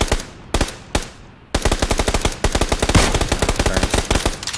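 Loud, rapid automatic gunfire in PUBG on the Miramar desert map, with a few spaced single shots that then break into long, fast bursts of close, punchy rounds and no talking.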